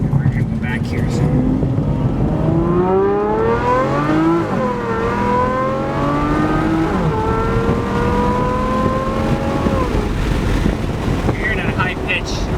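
A heavily modified Aston Martin Vanquish engine revving with a loud, high-pitched whine that climbs and falls in overlapping sweeps, close by, with wind buffeting and someone talking through it.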